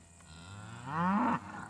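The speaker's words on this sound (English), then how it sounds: "Cows graze in clumps around the bowl." Cattle lowing in a mountain meadow rimmed with aspen groves, a single long, loud moo rising and swelling nearby, then cutting off, over a quiet outdoor background.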